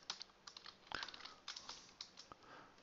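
A search typed on a computer keyboard: a quick, uneven burst of close, crisp key taps with no talking.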